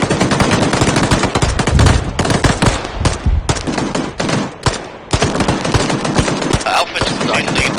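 Dense bursts of automatic gunfire and sharp shots in the video game ARMA 3, loud and close, rattling in rapid volleys with short pauses between them.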